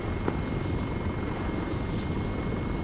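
A helicopter setting down on an oil rig helipad, its steady loud rotor and engine roar filling the scene throughout with no pause or talk.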